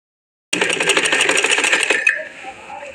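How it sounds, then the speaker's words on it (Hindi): A sewing machine stitches a seam on a frilled frock, starting abruptly after a moment of silence with a fast, loud, rhythmic needle clatter for about a second and a half, then stopping into quieter handling noise. "यहाँ पे सिलाई लगा देंगे। देखिए गुम सिलाई जैसे होती है ऐसे हो जाएगी, यहाँ सिलाई लगाएंगे।"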